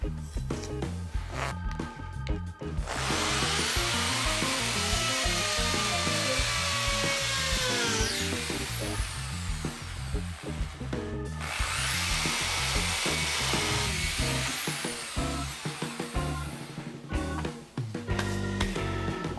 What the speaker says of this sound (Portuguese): O furo das buchas eu vou fazer com uma broca de 8 milímetros